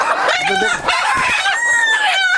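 Native desi roosters and hens at a Tangail poultry hatchery, several close overlapping crows and clucks in quick succession.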